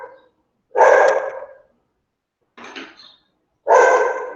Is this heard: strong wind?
no